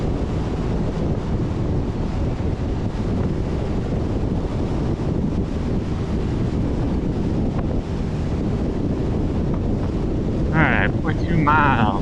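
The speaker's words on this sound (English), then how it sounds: "Crosswind." Strong, steady wind buffeting a microphone outdoors on a travel day from Chenoa to Blackstone, a dense continuous rumble and roar with faint voices briefly near the end.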